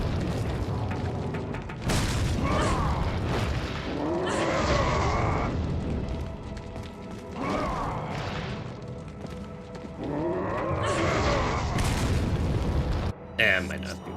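Grenades explode in Resident Evil 4, a series of heavy booms with rumbling tails arriving every couple of seconds, loud and close, with voices talking between and over them.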